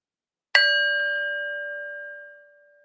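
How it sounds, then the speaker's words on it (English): A single meditation bell is struck once and rings out alone with a clear, sustained tone that slowly fades over about two seconds. "idea of riding the bell into the meditation"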